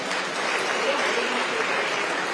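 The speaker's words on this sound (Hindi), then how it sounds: "महोदय के लिए एक बार जोरदार तालियां हो जाए।" Sustained, dense applause from an audience at a public event in Shimla for Chief Minister Sukhu, holding at an even loudness for the full stretch like a steady wash of clapping.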